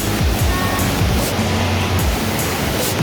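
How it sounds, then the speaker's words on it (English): Huge waterfall near Munich roaring continuously, a loud, broad rushing wash of falling water heard close up, with no voices over it. "it's a huge waterfall"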